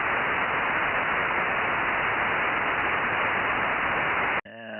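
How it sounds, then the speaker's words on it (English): Loud, steady hiss of 70cm amateur radio static fills the air, then cuts off abruptly at the end. "Just a bunch of white noise from both of them."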